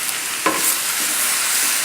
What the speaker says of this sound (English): You must keep stirring.